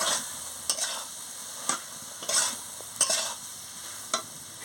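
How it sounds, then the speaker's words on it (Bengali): Potatoes and pointed gourd are sautéed in spice paste for a pointed gourd and prawn curry, with a steady sizzle under repeated scraping spatula strokes, loud and close, no talk. "আমি আলু আর পটলটা দিয়ে দিচ্ছি, দিয়ে ভালো করে কষিয়ে নিচ্ছি।"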